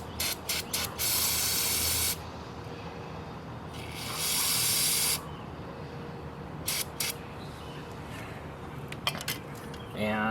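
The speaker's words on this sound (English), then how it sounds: "I'm going to take this carb cleaner and I'm going to spray it." Carb cleaner is sprayed onto a Wen generator's carburetor in several bursts: short hissing squirts, then two longer sprays, with small metallic clinks and handling noises between them.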